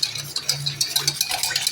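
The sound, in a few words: stirring sugar into sherbet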